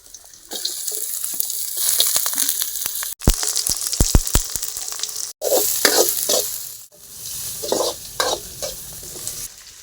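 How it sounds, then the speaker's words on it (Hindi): Chopped onion and garlic hit hot oil in a pan, setting off a loud, steady sizzle with stirring scrapes and clinks, broken by brief gaps and splashing bursts. "अब प्याज और लहसुन लगा थी ये देखा।"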